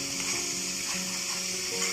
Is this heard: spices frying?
yes